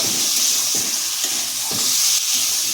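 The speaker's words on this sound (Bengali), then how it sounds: "মশলা কষানো হয়ে গেছে তেল ছেড়ে গেছে এবার আমি কাবলি ছোলাগুলো দিয়ে দেবো" Boiled kabuli chickpeas stir-fried in a masala cooked until the oil separates, giving a loud, steady hissing sizzle with rhythmic scraping strokes of the spoon about every half second.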